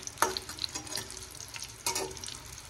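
Cashews, almonds and raisins sizzle in an oiled kadhai, a close, continuous crackle broken by a few sharper scraping stirs, with no voices.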